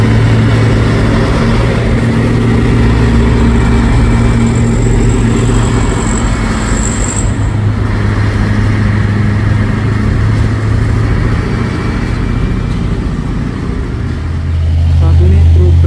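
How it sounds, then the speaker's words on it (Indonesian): A heavy container-carrying trailer truck rolls along a road on the approach to a steep hill at Bukit Kodok, its deep steady engine drone loud and close throughout, with a brief high whine midway. "Satu nih truk trailer itu bawa kontainer"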